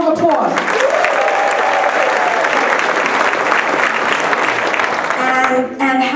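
Loud, dense audience applause fills a talent show venue, steady throughout with cheers and whoops rising over the clapping before it thins near the end.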